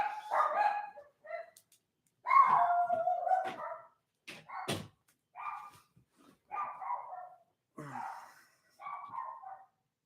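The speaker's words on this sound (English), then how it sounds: "There go my dogs." Several dogs barking indoors in irregular bursts of yips and barks with short pauses between them, fairly close and loud, with no talk over them.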